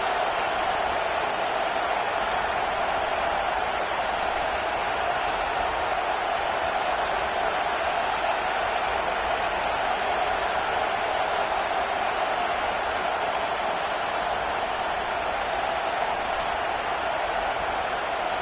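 A loud, sustained roar of a large stadium crowd at a Nebraska American football game on third down fills the space, a dense, unbroken wash of cheering and noise that holds steady from start to finish.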